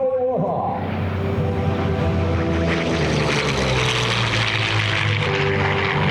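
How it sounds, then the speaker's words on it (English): A P-40 Warhawk fighter makes a high-speed pass at an airshow, its propeller engine roaring up from a distance into a loud, sustained drone with a falling pitch as it sweeps by, while an announcer talks. "the P-40 Warhawk."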